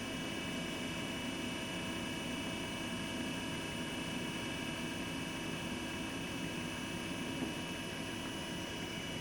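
A newly fitted hydraulic pump motor on a hydraulic dresser runs steadily, producing a constant mechanical hum and whine with a fixed pitch. It carries on unchanged throughout, with no voices.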